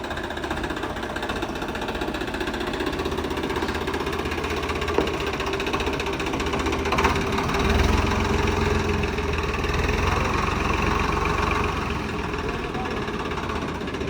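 A Swraj tractor with a seed drill attached idles nearby with a steady, low, chugging rumble and faint rattling, holding constant throughout with no talking.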